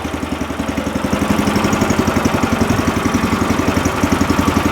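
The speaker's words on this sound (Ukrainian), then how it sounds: "такий важкий потужний мотоблок і на одному місці розвертається" A heavy, powerful walk-behind tractor with a reduction gearbox runs steadily close up while turning in place, its engine giving a loud, even, rapid chugging pulse with a low rumble throughout.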